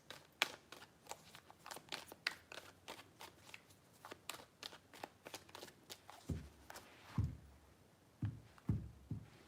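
Tarot cards shuffled by hand in a quiet room, a rapid run of crisp riffling flicks and soft card slaps, then a few heavier thumps near the end as the deck is squared, alone and close.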